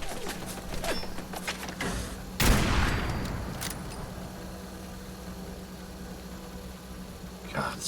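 Sniper rifle fired in Fallout 4: one sharp, loud shot cracks out and decays over a couple of seconds, set against a steady low hum and faint background clatter.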